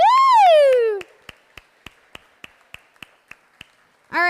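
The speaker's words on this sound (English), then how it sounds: "Everybody give him a round of applause for the amazing resurrection piece that he just created." A single high whoop gives way to about ten slow, evenly spaced hand claps, sharp and close in a quiet room, before a voice cuts back in.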